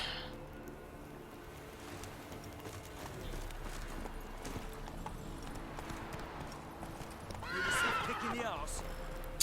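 A horse neighs and whinnies in The Witcher 3, a loud rising cry near the end over steady clip-clop hoofbeats and in-game ambience, with faint speech in the background.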